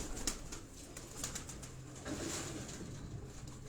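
Performer pigeons on a rooftop loft, giving faint, soft cooing with a few light calls and rustles over quiet background noise.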